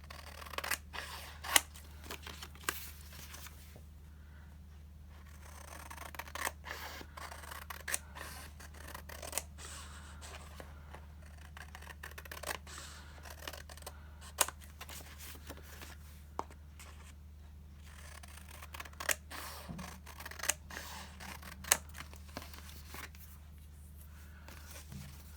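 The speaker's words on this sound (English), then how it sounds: "And then I'm going to trim off the excess." Scissors snip through excess paper in a quiet room, with a run of short, crisp cuts in uneven bursts and soft paper rustling between them, close and faint against a low hum.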